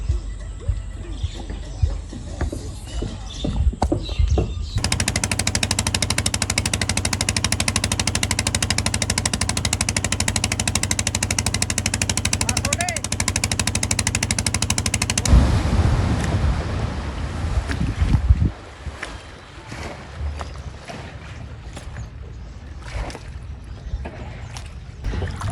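A motor boat engine drones steadily on a Sundarban river, loud and close for about ten seconds amid wind and water noise, then drops away to quieter rumbling and clatter.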